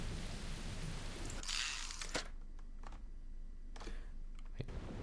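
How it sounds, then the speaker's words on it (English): Steady rain patter in the Sam and Max Season 2 adventure game, a soft continuous hiss with a few brief clicks and ticks scattered through it, faint and alone with no talk. "Ooh. Rain."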